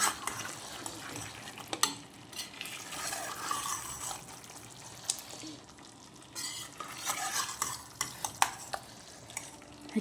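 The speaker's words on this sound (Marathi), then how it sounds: "आता मी हे बघा टाकलेलं आहे मटण ह्याच्यामध्ये चांगलं हलवून घेते मसाला मिक्स होत" Mutton stirred into masala in a frying pan for a goat-meat curry: close scraping and clattering of a spoon against the pan over a steady sizzle, with irregular sharp knocks and no talk.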